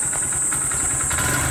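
A stock 2020 Honda Grom small motorcycle idles at close range with a steady, deep, throbbing engine note that stays even throughout, with no speech.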